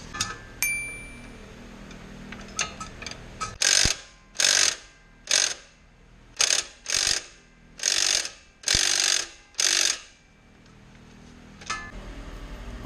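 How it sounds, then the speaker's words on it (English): Ratchet loosening the 14mm alternator tension bolt on a Perodua Myvi 1.3 auto: about eight loud, close bursts of rapid clicking, each a second or so long, separated by short quiet gaps. "first you need to loosen that 14mm bolt"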